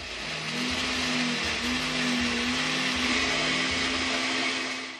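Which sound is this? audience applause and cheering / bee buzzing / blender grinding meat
blender grinding meat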